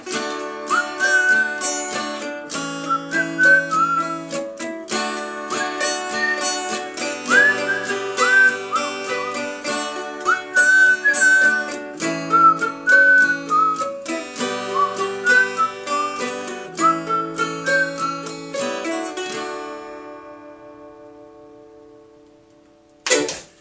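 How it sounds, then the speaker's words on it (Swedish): A person whistles a bright melodic tune alone, with clear pitched phrases that rise and fall in a steady rhythm, accompanied by ticking, before ending in silence. "Så, men vi visslar istället."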